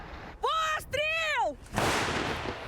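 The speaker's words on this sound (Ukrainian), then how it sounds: "Це українська самохідна артилерійська установка Богдана." A drawn-out shouted call is followed by a powerful blast from a Ukrainian Bohdana self-propelled howitzer firing, trailing off into a rushing roar.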